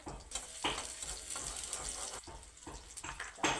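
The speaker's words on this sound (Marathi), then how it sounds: "टाकून देतो तेलात कांदा होऊ द्यायचा मस्त" Onion frying in oil in a home kitchen pan for an eggplant dish, a soft steady sizzle with brief louder spits and stirring scrapes, faint and close.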